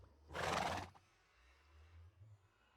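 A Minecraft horse named Mudsdale in Craftverse gives a single loud whinny inside a small in-house barn, then quiet shuffling follows under a low hum.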